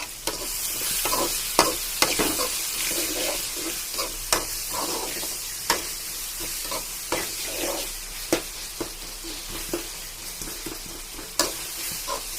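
Onion and tomato sautéing for a fish curry (kavala meen kuzhambu), a steady frying sizzle with repeated sharp clicks and scrapes of a spoon stirring the pan, close and continuous with no talking.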